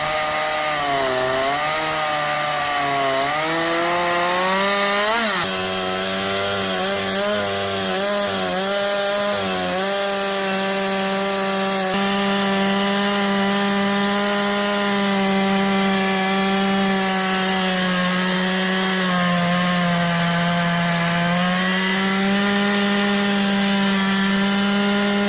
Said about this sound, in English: Woodworking machinery utilizes CNC processing to automate and precisely shape wood materials for various applications.